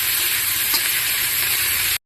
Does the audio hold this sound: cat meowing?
no